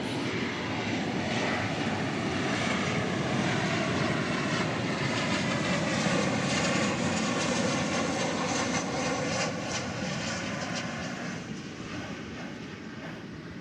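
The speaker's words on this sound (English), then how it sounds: "Flight number 2540, a 737-800, was that." A Boeing 737-800 from Omaha, Nebraska passes at a busy summer airport, its engine roar loud and sustained, holding steady before easing slightly as it moves away.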